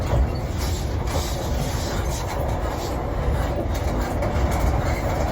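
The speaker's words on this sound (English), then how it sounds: "We've got a car train over here." A car-carrying train rumbles steadily past with a dense, continuous rolling roar and faint wheel clatter, fairly close and without pause.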